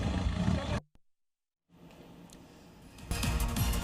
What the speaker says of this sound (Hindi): इस दौरान बाघों की दहाड़ सुनकर सैलानियों में रोमांच और दहशत का माहौल बन गया।